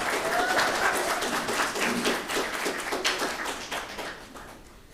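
A congregation at a special church service gives a burst of steady, fairly close hand clapping that slowly tapers off toward the end.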